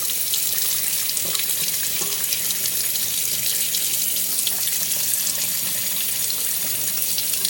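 Water pours into a Mishimoto compact baffled oil catch can during cleaning and runs out of the micron filter at the bottom in a constant stream, a steady close splashing trickle with no pauses.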